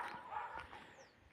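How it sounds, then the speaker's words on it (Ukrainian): A small dog yips and barks a few times at a distance on a street in Beryslav, Ukraine, faint against quiet outdoor background noise. "як гавкає собачка"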